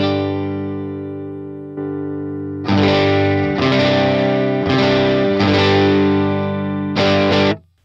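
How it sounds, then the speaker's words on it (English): Electric guitar played through the Timmy overdrive on a Line 6 POD Go with the gain turned down a little, a held chord at first, then loud sustained overdriven chords rung out in several bursts before cutting off. "The T-Maw, the Timmy in the Pod Go is one of my favorites. I just pulled down the gain a little bit, but I think it sounds great."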